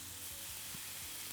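Kofta kebabs fry and char on a hot cooking surface, making a steady, close sizzle with faint crackles and pops throughout.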